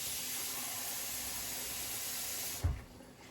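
Raccoon stew starting to cook in a pot, giving a steady, close hiss like steam or simmering liquid that runs evenly and then drops off sharply after a soft bump near the end.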